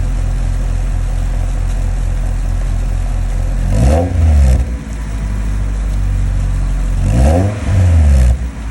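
A Nissan S15 with a new aftermarket exhaust sits at a loud, steady idle up close, then is blipped twice, each rev rising sharply and falling back to the burbling idle.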